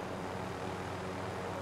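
A helicopter flying in a video game gives a steady, loud engine and rotor drone that holds evenly throughout, with no talking.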